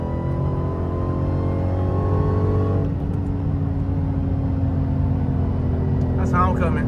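A Hellcat car engine drones steadily and loudly from inside while driving in a small town, its pitch shifting about halfway through as it accelerates, with a voice talking over it.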